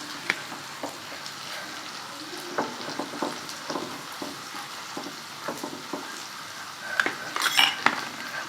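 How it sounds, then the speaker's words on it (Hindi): Ginger, garlic and green chili masala frying in oil for masala bhindi, a steady close sizzle with scattered stirring scrapes and clinks of a spoon against the pan, louder crackles near the end; no speech. "पानी तड़कने की आवाज़ अब तक आ रही है, यानी मसाला अदरक लहसुन हरी मिर्च अच्छी तरह फ्राई नहीं हुई अभी तक पूरी तरह"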